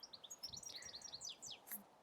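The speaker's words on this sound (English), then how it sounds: "I'm talking to birds here." Birds chirping, a quick series of high, bright tweets and short calls, fairly faint and continuous, with no voices alongside.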